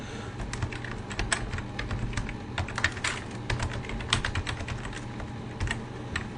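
Rapid, uneven keystrokes clatter on a computer keyboard as login details are entered, a steady run of close, crisp taps over a low background hum.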